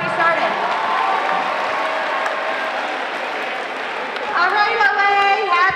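A large crowd of students applauds and cheers at a Thanksgiving pep rally in a school gym, a sustained roar of clapping, with amplified music or voices rising over it near the end.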